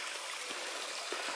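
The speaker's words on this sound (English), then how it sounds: "That's a fair amount of water coming out of the adit" Water runs out of an old mine adit on a forested hillside, a quiet, steady rushing trickle with no voices over it.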